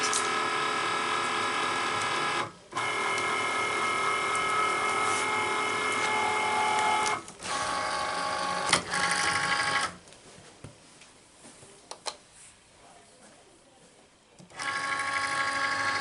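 A Cricut cutting machine feeds and cuts material with a whirring, buzzing mechanical drone broken by brief pauses and clicks, then drops to quiet rustling before the motor hum resumes.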